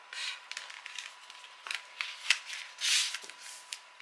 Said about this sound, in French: Donc, on va les plier de façon à avoir...